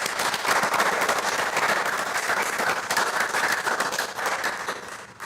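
A room of people in a county commissioners court gives a sustained round of applause, dense crackling clapping that stays steady for several seconds before tapering slightly at the end.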